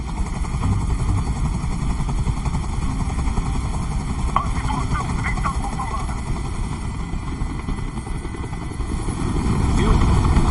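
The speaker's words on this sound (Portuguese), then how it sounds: "Esse helicóptero tem que sair daqui agora." A helicopter in the video game Detroit: Become Human hovers nearby, giving a steady rotor drone and thrum beneath a tense scene, with voices speaking over it.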